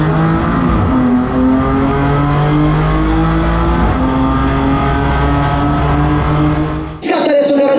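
Race cars in a racing video game roar off the line at the start of a race on the Misano circuit, a dense loud pack of engines revving and climbing in pitch before a sharp shift near the end.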